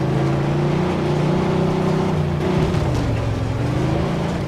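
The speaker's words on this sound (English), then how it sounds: "Okay, driving with 3 tyres is not easy." A car in Mafia 2 is driven on only three tyres, its engine droning loudly and continuously with shifting revs and no break in the sound.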